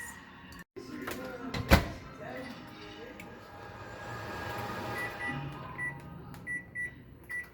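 A microwave oven heats a stick of butter, a low steady hum running for several seconds after a door clunk, ending with a series of short beeps.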